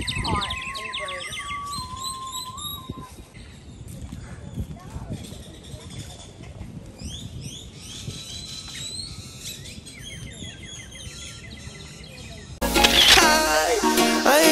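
Birds chirp and tweet at a seafood market in Panama City, with busy chatter and voices throughout and a louder burst of crowd noise near the end.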